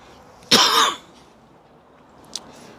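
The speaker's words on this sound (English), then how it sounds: "Come out, get a bit of fresh air and start the coughing." A man outdoors on a carp fishing trip gives one strong, harsh cough-and-throat-clear burst lasting about half a second, followed by a faint short throat sound a moment later against quiet background.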